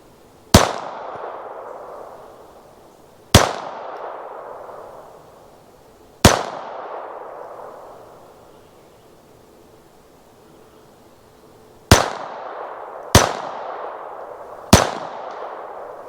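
Six sharp pistol shots from a Smith & Wesson Victory crack out on an outdoor range at a 2-liter bottle target 55 yards away. Each is a loud single report with a long echoing decay, irregularly spaced, with no talking.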